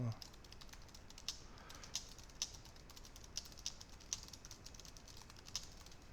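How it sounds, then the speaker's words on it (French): Keys tapped on a computer keyboard while entering text into a web page editor, a steady scatter of faint, irregular clicks over a low background hiss, with no voices. "vous avez juste à taper du texte"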